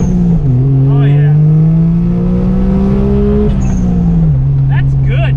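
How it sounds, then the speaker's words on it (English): A Suzuki Cappuccino engine revs hard on a dyno, a loud, close droning note that climbs slowly in pitch and then drops, with short airy hisses from the blow-off valve as the revs fall. "I love that blow-off valve"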